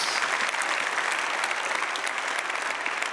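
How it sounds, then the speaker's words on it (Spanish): A church congregation applauds in a steady, close wash of many clapping hands that carries on without a break. "Hay un aplauso fuerte, Señor"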